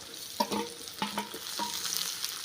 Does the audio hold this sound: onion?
yes